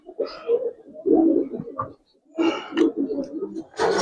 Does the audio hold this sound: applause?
no